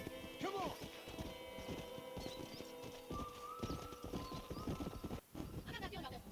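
Steady clip-clop of horse hooves trotting in Red Dead Redemption, a repeated rhythmic beat with faint animal calls and background tones.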